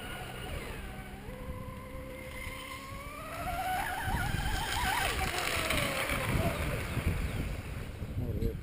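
A personal watercraft engine running, its tone climbing and falling in rising sweeps that grow steadier and louder in the second half, with wind or water noise behind it.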